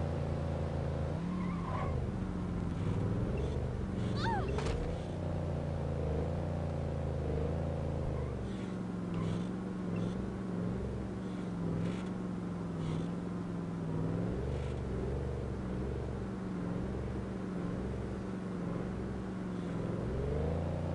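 Car driving in The Godfather video game: a steady engine drone with shifting pitch runs throughout, loud and continuous, with occasional brief higher squeals or skids.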